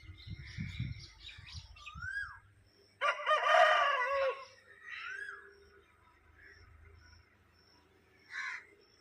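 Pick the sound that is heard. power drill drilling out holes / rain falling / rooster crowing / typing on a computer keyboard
rooster crowing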